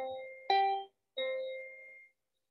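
Two sustained piano notes, C then G a perfect fifth apart, struck one after another and left to ring and decay, clean and close with no talking.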